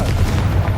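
Confringo fire blast spell from Hogwarts Legacy gameplay, a short, dense, loud burst of low booming energy that rumbles briefly and stops.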